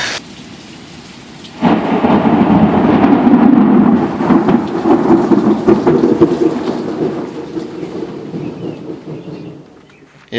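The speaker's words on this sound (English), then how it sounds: "I don't even mind rain this hard." Heavy rain pours down on a garden. A deep roll of thunder breaks in loudly after a quiet start, then rumbles and slowly fades while the downpour keeps hissing steadily.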